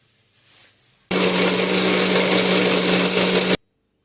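A mixer grinder whirs loudly and steadily for about two and a half seconds as it blends green chilli masala with water, starting abruptly and cutting off clean, with no talk over it.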